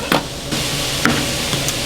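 Sausage browns in a pan with a steady crackling sizzle, punctuated by a few sharp pops and light scrapes close by.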